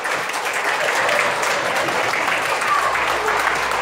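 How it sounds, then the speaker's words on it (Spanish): Steady, full applause from a church congregation at a Children's Day service, an even wash of clapping filling the room from start to finish. "Dale un aplauso bien grande."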